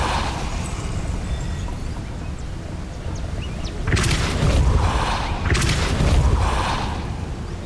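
Two forceful Depulso spell blasts in Hogwarts Legacy, each a broad whooshing boom lasting about a second, landing a little over a second apart over steady background ambience.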